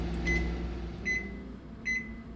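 A microwave oven timer beeps three times, evenly spaced and fairly quiet, over a faint steady hum of the appliance.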